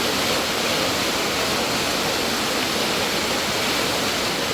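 Swollen floodwater after heavy rain pours over a village bridge in the Himachal hills, a loud, continuous roaring wash that fills everything without pause.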